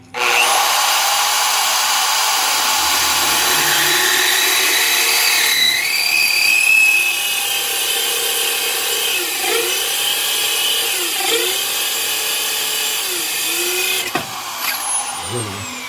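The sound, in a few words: electric drill boring a hole through a tile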